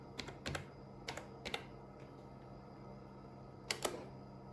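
Keys pressed on a Casio FP-200 computer keyboard while typing a command, heard as a few close, crisp clusters of clicks separated by pauses, over a faint steady hum.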